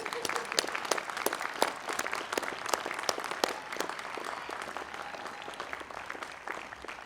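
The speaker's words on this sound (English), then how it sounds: "I think we can applaud them, can't we?" Commencement ceremony crowd applauding: sharp individual claps over a steady wash of clapping, heard at a distance in a large outdoor or hall setting, even and sustained throughout.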